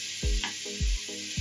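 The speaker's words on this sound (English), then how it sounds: "we will continue to sear them for a little bit so they can get the color." Meat sears in a pot for a Romanian winter soup, giving a steady hiss of sizzling with a few dull low knocks. The sound is close and even.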